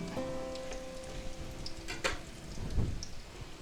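Breaded eggplant fries in a pan with a soft, steady sizzle and faint crackles, fairly quiet, with a few clinks and a brief tonal hum near the start.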